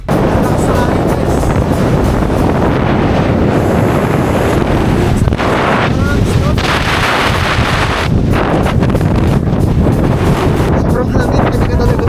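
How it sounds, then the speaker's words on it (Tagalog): Strong wind roars across the summit of Snowdon, the highest peak in Wales, buffeting the microphone in loud, continuous gusts with no break for the whole stretch. "Sobrang hangin,"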